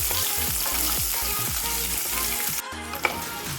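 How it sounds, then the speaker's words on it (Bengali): Onions fry in a pan with a dense, crackling sizzle under repeated quick stirring scrapes, close and fairly loud, easing slightly toward the end with one sharp clink; no voices. "এবার পেঁয়াজটাকেও ভালোভাবে ভেজে নেব।"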